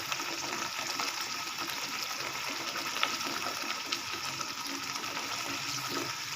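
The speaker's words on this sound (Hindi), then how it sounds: "अब मैं इसके अंदर पानी शामिल कर रही हूँ।" Water is poured into a fish curry gravy (machli ka salan) in a home kitchen, a steady continuous gush and splash close by, with no talking.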